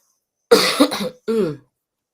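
Two short, harsh coughs close to the mic, a brief pause between them, then silence.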